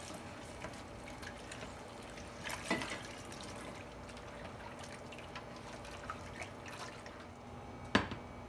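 Bone broth poured into tomato paste for a North African lamb or goat curry, a faint trickling and dripping with a few soft splashes, close and quiet, with no talking.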